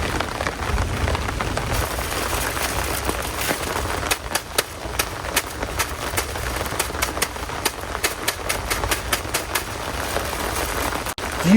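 Rain drums on the roof of a minivan during a rainstorm, a dense, close patter with sharper individual drops tapping irregularly throughout.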